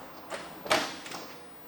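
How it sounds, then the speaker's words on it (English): A driver's side door of a 1968 Ford Mustang opens with a few sharp, close mechanical clicks and a light thud from the latch, ending in quiet. "What we're going to do now is open up the driver's side door and go over the interior."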